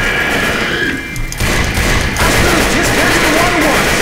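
Gunfire in the Left 4 Dead 2 video game, a steady dense clatter of shots running throughout with a brief dip partway, heard alongside game noise and faint talk.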